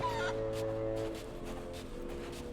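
Chickens cluck in a video game, a brief burst of fowl calls at the start, then fainter intermittent clucks and soft rhythmic sounds over a low hum.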